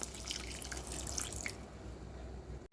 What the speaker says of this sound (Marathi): आता याच्यात ॲड करते पाणी.